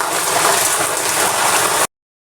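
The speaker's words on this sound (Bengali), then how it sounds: "প্রচুর পরিমাণের বৃষ্টি হয়েছে" Steady, dense heavy rain hisses loudly without a break, then cuts off abruptly.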